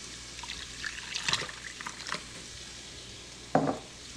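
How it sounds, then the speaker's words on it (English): Beef broth being stirred into a bubbling paste for a New England style pot roast, giving soft liquid sloshing and spoon scrapes in a few brief bursts, near and fairly quiet, with no talking. "we're going to stir and combine this and let it cook a little"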